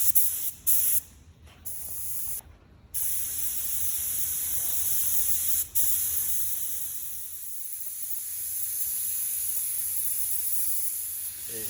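A spray gun lays metallic paint onto a test panel in a DIY paint booth, giving a steady close hiss with a few brief breaks near the start and then an unbroken spray.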